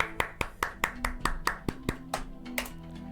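Steady rhythmic hand claps, about a dozen sharp claps in even time, close and fairly loud, with a faint tone humming underneath.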